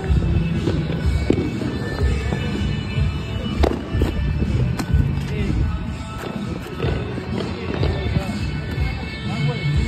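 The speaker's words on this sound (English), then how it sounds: "If you guys are scared for the fireworks, two stages." Two-stage fireworks going off during a 4th of July celebration, with repeated sharp bangs and pops at varying distances over steady crowd noise and voices talking throughout.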